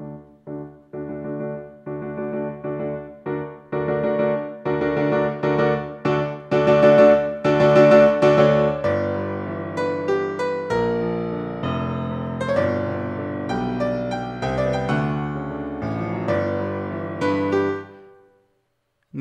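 Electronic album track composed in a piano roll plays loudly as dense layered synth notes in rhythmic chordal bursts, building in intensity, shifting to lower sustained tones midway, then stopping abruptly near the end.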